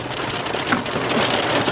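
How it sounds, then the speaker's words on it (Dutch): Hail comes down in a dense, even patter of many small hits, close and loud throughout, with no voices. "Je denkt zeker dat het regen is, maar het is hagel"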